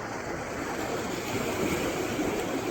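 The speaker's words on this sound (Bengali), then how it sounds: "পানির আওয়াজ পাওয়া যায়" Sea waves rolling onto Cox's Bazar beach at night, a steady broad wash of surf with some wind noise, continuous and fairly close, with no talk over it.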